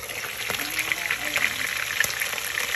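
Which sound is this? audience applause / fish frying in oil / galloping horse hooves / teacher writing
fish frying in oil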